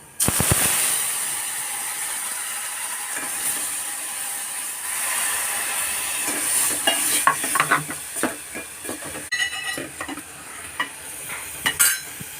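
Ground coconut-masala paste dropped into hot oil tempered with mustard seeds for a Konkani dahi kadhi, giving a loud, continuous close sizzle and crackle with scraping stirs and spoon knocks against the pan.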